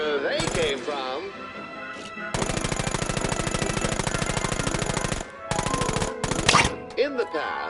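Rapid automatic gunfire in long sustained bursts, loud and close, with brief pauses between volleys and a few scattered single shots at the start and end.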